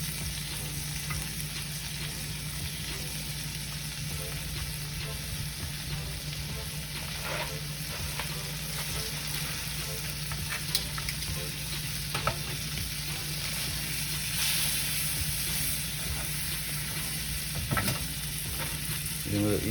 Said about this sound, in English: we're going to add our pork